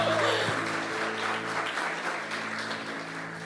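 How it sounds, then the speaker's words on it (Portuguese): A church congregation claps for the Lord, a dense, steady wash of applause that fills the room throughout, with a faint sustained tone lingering underneath. "Gente, aplaude ao Senhor."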